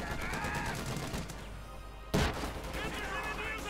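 Rifle and machine-gun fire crackles in the WWII strategy game Company of Heroes 2 during a 1v1 match, a steady battle din with one sharp loud burst, under a commentator's voice.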